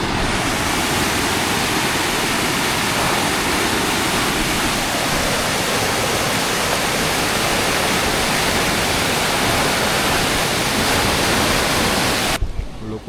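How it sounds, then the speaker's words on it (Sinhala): Water rushes through the open spillway gates of a reservoir after heavy rain: a loud, steady, broadband roar that continues without a break and cuts off abruptly near the end. "ලොකු වතුර ප්‍රමාණයක් එනවා මෙතන."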